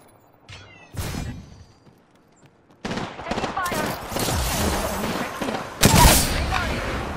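Video game gunfire in Apex Legends style combat: bursts of rapid shots and crashing impacts build into sustained loud firing, with a voice talking over parts of it.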